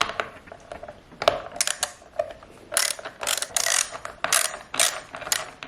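A ratchet clicks in rapid bursts while backing out T20 Torx screws from the steering wheel trim of a BMW M340i, close-up, with short pauses between runs of ratcheting.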